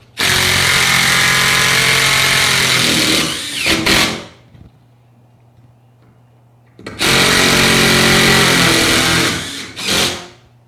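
Power driver running a self-drilling screw: two loud, close bursts of whirring motor, each several seconds long and winding down in a short stutter, separated by a quiet gap, with no talking.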